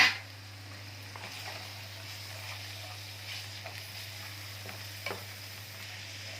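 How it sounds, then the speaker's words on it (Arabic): Half a kilo of imported liver, rinsed and squeezed with lemon, sizzles and is stirred in a frying pan, a soft steady hiss with occasional light scraping stir sounds, fairly quiet and close. "وبعد كده هنزل بالكبدة بتاعتي على طول."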